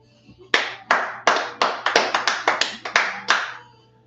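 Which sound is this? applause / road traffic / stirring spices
applause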